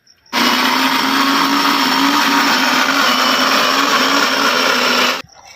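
A kitchen mixer grinder blends green peas with ginger, green chilli and chopped coriander into a paste, a loud, steady motor whir with a constant hum. It runs continuously for about five seconds and then cuts off abruptly.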